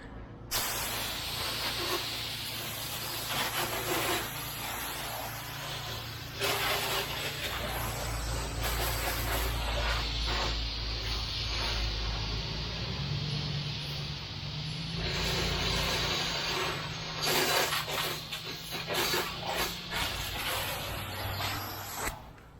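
A pressure washer sprays a house wash, a loud continuous hiss of water jetting close by with a droning pump underneath that shifts in pitch as the spray starts and stops.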